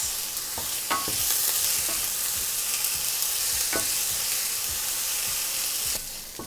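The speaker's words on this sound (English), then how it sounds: "I'm gonna go ahead and add those onions. I'm gonna cook that for about 4 minutes." Onions fry in a pan for a spinach stuffed chicken breast dish, a loud, constant hiss of sizzling oil with occasional sharp knocks and scrapes of a utensil, close up and without talk.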